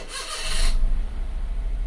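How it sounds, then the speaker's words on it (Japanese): A car's newly fitted starter motor cranks with a brief, loud whirring burst, then the engine catches and settles into a steady low idle rumble, with no talking. "はい、セルを回してみます。"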